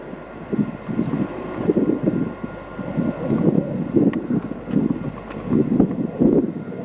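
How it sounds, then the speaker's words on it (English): A four-engine Bristol Britannia airliner with all engines running, heard outdoors as a steady low propeller drone with pulsing, wind-buffeted surges. It is moderately loud and continuous, with no talk over it. "All four engines are firing."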